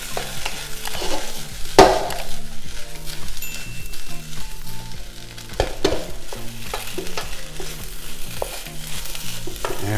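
Shrimp fried rice ingredients sizzle together in a hot pan, a steady frying crackle broken by sharp scrapes and clacks of a utensil stirring, with music playing in the background.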